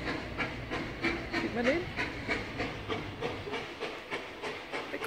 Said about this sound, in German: da sieht man sogar einen Zug im Hintergrund